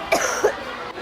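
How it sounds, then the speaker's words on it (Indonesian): Coughing inside a school classroom: two distinct coughs a moment apart, fairly close and clear, over a steady room hum. "Kok banyak banget ya suara batuk dari dalam kelas ini?"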